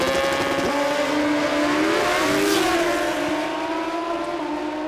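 A Kawasaki drag racing engine making a pass at Willowbank Raceway, a loud, continuous high-revving wail with pitch climbing and stepping through gear changes over several seconds, no talk.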